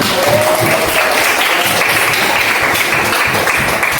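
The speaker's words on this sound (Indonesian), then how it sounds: "Oke, tepuk tangan untuk kita semuanya." Classroom applause during a religious education lesson: steady, dense clapping from a group of students fills the whole stretch at close range, with faint voices mixed in underneath.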